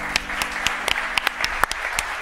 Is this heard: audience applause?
yes